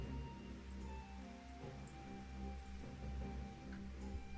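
Continuous rain falling in Final Fantasy XIV, a soft steady patter over a low rumbling game ambience with occasional faint chimes, no one speaking.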